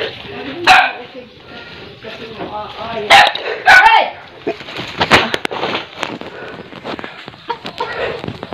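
A dog at a rural home in the Philippines barks and yips sharply in several bursts as its owner arrives, close by and mixed with someone talking over it.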